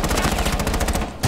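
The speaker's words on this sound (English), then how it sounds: "Someone's shooting." Rapid automatic gunfire rattles out in a match of Rainbow Six Siege, a loud, close, even stream of shots that stops briefly and then starts again.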